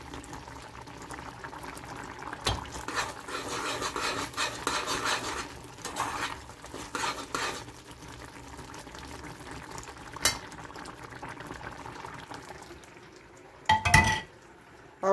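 A coconut sugar cake mixture boils and is stirred in a pot, with a steady bubbling simmer, scraping spoon strokes and occasional clinks against the pan, close and continuous.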